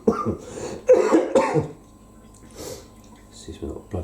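A few harsh, throaty coughs from a man burst out close by while he repairs an Indesit washing machine, followed by quieter breathy throat noises and a short pause.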